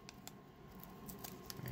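Protective film is peeled off a Ringke Fusion X phone case, a faint, close crackling strip with brief sharp ticks spread through the moment and no talking.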